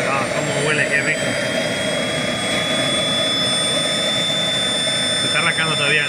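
A small model jet turbine rated at 160,000 rpm and 10 kg thrust spools up and settles toward idle, a loud steady roar with a high whine running throughout, close by, and people speak briefly over it.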